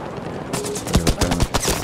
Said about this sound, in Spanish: Voy a dispararle a ese güey.